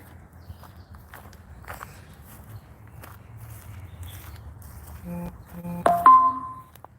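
Footsteps on a road leading up to a cemetery on a mild Pennsylvania morning: soft, irregular steps scuffing close by over a low outdoor rumble, ending with a brief tonal chirp or beep.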